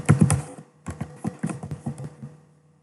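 Quick, close clicking keystrokes on a computer keyboard come in irregular bursts with short pauses, trailing off into silence at the end.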